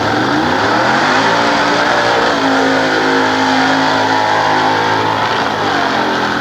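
A heavy Stearns Knight cruiser of about 5,000 pounds accelerates down a drag strip at a nostalgia drag meet, its engine roaring loudly and steadily with the pitch climbing through the run.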